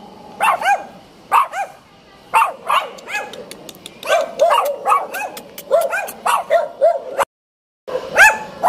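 Several small dogs yap and bark aggressively at a rider on a motorcycle, bursts of high, close barking and yips with short pauses and a brief silent gap.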